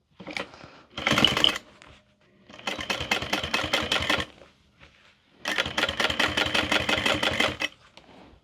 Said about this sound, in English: we're going to top stitch through the bottom panel